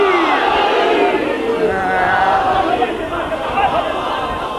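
A large crowd at a religious gathering shouts the Naara-e-Haideri slogan in unison, a loud, dense roar of many voices sustained for several seconds.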